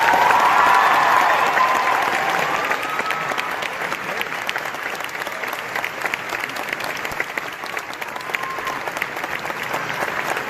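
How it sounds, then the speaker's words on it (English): A commencement audience at the 2018 UCS graduation applauds after a speech, a dense, loud wash of clapping that begins strongest and then holds steady across a large hall for about ten seconds. "She deserves another round of applause."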